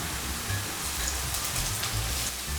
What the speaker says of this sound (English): I will add half cup of oil and put the heat on, and I will fry it until golden brown.